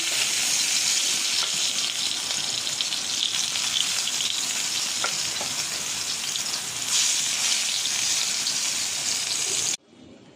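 Steady, loud hiss of eggplant slices frying in oil, continuous crackle throughout, cutting off abruptly near the end.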